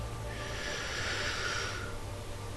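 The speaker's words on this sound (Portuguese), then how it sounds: "a gente inspira, pausa, inspira de novo" A person breathes in through the nose with an audible hissing inhale that rises, holds and fades, close and fairly quiet over a low background hum.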